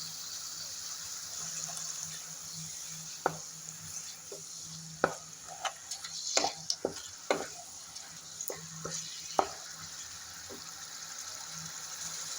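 Fish oil poured into a pan with turmeric and cumin powder, frying with a steady low sizzle and scattered sharp clicks and taps of a utensil against the pan, no voices.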